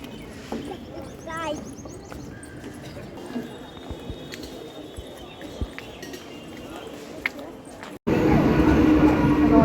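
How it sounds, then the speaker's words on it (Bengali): A moving commuter train between Thakurnagar and Habra gives a low, steady rumble with scattered rattles and clacks while voices murmur nearby, then a much louder roar takes over for the final seconds. "ট্রেন চলে এখন"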